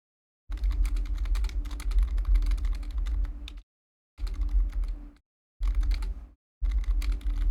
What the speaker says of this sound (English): I feel like y'all hear more of my typing than ever